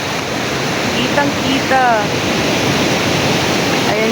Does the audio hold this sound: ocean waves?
yes